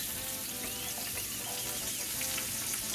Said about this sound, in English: I've got some lard heating up, and I'm going to add some onion and some garlic